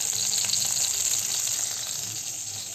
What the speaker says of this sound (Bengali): আমার যে কয়টা মাছ আছে আমি এরকম করে সবগুলোকে ভেজে নেব